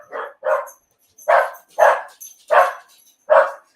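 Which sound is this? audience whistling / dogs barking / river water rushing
dogs barking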